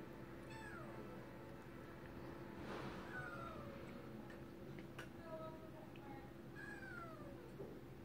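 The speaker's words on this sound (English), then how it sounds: "See, when they meow like that, they want attention." Several kittens meow repeatedly in short, rising and falling calls spread across the clip, over a steady background hum with a faint ticking.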